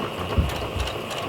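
A sewing machine back stitching: a brief, close whirring run with a soft mechanical thump partway through.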